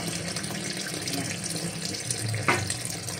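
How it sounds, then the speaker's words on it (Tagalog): Strawberries being washed under a running kitchen tap, a steady splashing stream of water hitting fruit and sink, fairly close and continuous with no talking. "kailangan nating hugasan yung mga strawberries natin"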